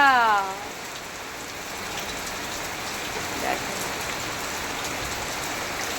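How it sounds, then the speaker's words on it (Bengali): Steady morning rain pours down with a dense, even patter that holds for the whole stretch, and a single short spoken word comes near the start. "বৃষ্টি আসলো ফ্রেন্ডস, বৃষ্টি আসলো।"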